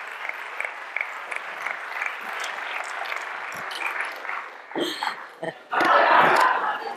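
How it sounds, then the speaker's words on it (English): Audience applause after a talk, with steady crowd clapping that thins and breaks up before a final louder swell of clapping and cheering near the end. "more applause."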